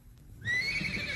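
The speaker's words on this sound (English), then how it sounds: "Horse, huh?" A horse whinnies in one sustained, shrill neigh that starts abruptly and carries on loudly and close.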